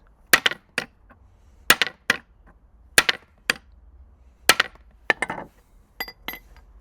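Sharp metallic hammer whacks strike a brass button fastener, coming in spaced clusters of two or three bright, close clinks with quiet gaps between them.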